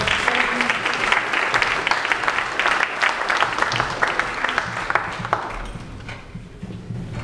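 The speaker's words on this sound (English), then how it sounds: "Stillwater, let's give another applause to Stillwater." An audience at a lecture panel claps in a dense, loud burst of applause that slowly fades over several seconds.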